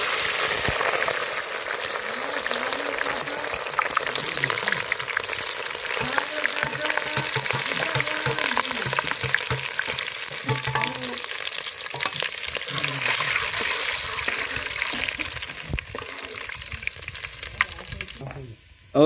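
Chopped chillies hit hot oil with bay leaf for a roasted brinjal dish, crackling into a loud, busy sizzle with stirring that carries on steadily, while a voice speaks over it.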